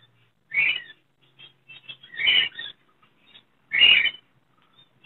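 Budgerigar breeder pairs at a Sunday bird market in Chichawatni give three clear, separate high chirping calls, each a short scratchy burst, with small faint twitters in between against an otherwise quiet background.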